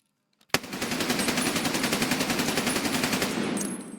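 Sustained full-auto assault rifle fire in Escape From Tarkov, a rapid unbroken burst of loud gunshots lasting several seconds after a sudden start, with no talking.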